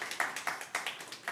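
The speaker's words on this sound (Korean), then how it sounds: "우리 하나님께 한번 감사의 영광 박수 드리겠습니다" A church congregation claps in a Korean worship service, a short run of sharp claps in a loose uneven rhythm, moderately close and fairly quiet with no talking.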